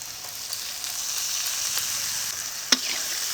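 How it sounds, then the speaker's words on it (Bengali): Salt and turmeric powder frying in a pan give a steady close sizzle, with a few soft stirring scrapes and one sharp clink near the end as tomato paste goes in. "দিয়েছি হলুদ গুঁড়ো হালকা ভেজে নিয়েছি এখন দিয়ে দেবো টমেটো পেস্ট"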